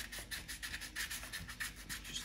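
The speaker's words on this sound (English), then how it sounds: "Just finish the roughing out by doing a little hand sanding" A wood carving of a gadwall drake head is hand sanded with 120-grit paper, giving quick rhythmic rasping strokes, close and clear, with no talking.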